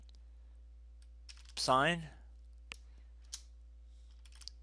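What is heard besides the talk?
typing on a computer keyboard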